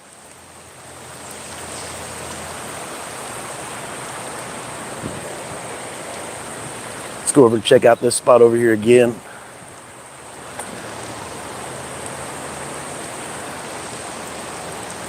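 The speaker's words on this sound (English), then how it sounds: "this was the crazy weather and flash floods that are coming into Pigeon Forge" Rushing flash-flood water with waves washing over in Pigeon Forge, a steady broadband roar running throughout, with someone talking briefly partway through.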